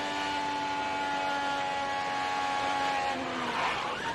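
An IndyCar race car's engine holds a steady, high-pitched whine during practice at the 2024 Music City Grand Prix in Nashville, then the pitch drops and wavers near the end as the driver lifts off the throttle.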